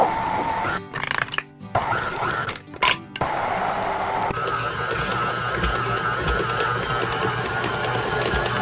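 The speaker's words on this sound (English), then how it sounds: "turn your mixer back on until the flour is all gone" Stand mixer working bread roll dough as the flour is absorbed, a loud steady mechanical whir with rhythmic knocking and a few brief dropouts early on.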